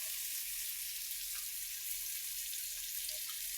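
Oil heating in a pan in a small home kitchen, ready for a fish curry with sweet pumpkin, gives a steady, even hiss with no distinct pops, holding at a moderate level without any talk throughout.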